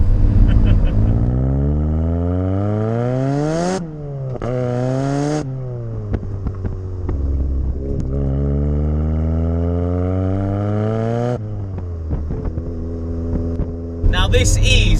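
A 1980s Ford Sierra Cosworth engine pulls hard while driving, with close, loud rising revs through repeated gear changes and brief pauses between pulls.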